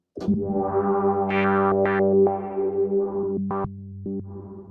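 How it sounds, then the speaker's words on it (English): A single sustained synth note rings out, its reverb tail swelling and fading in a slow, pulsing wash as an LFO modulates the reverb's damping. "you see nicely how the reverb moves in and out"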